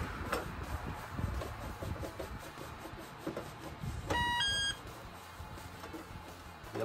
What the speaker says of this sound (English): The alarm system's complaining.